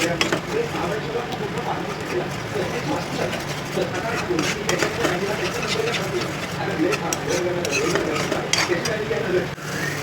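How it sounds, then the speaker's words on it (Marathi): Khoa is stirred continuously in a pan for mango barfi, with a dense scraping, sizzling texture and clicks of a spoon against the pan, and a voice talking over it. "तर हा खवा आपल्याला सतत परतत राहायचं आहे"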